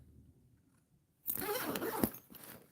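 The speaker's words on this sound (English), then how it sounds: "Oh, that's a nice zipper too." Zipper on a Nevermore Academy bag with a lining and slip pockets, pulled in one quick rasping run after a near-silent pause, close and clear with no talking.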